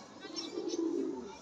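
Male pigeon in a cage at a loft in Bagnan, Kacharipara, giving a low, continuous cooing murmur at moderate loudness over steady background noise.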